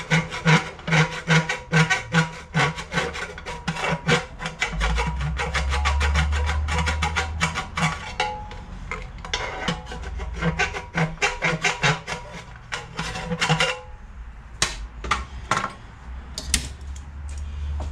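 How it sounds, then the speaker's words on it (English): Scale is being scraped off the inside of a Poulan Pro snowblower's fuel tank, making a rapid, loud, close rasping that keeps up a steady rhythm, then thins into scattered scrapes near the end. "Right at this moment, I'm scraping the scale off of it."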